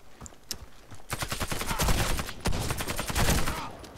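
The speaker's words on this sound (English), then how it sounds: "Oh, I got a headshot from hipfire." Rapid, loud bursts of suppressed gunfire from a hipfired weapon in the shooter game Warface, with dense overlapping shots and rattling action filling most of the stretch after a few softer sporadic pops.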